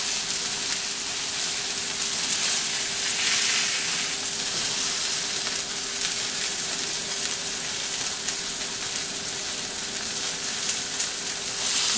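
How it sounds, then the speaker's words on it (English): Fat on the side of a steak renders in a hot pan, giving a steady, dense sizzle and crackle that holds level throughout without any voices. "I want to really render down this fat that's on the side of the steak"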